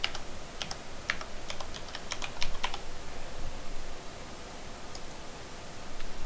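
Fingers type on a computer keyboard while entering user details in a Windows Server 2008 lab setup: quick, irregular clicking keystrokes heard close and continuous, with no talking.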